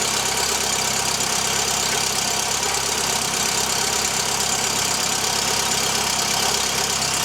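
Mk2 Golf engine idling with oil and coolant leaks near the exhaust manifold, a steady even hum with faint ticking, constant and close, no one talking.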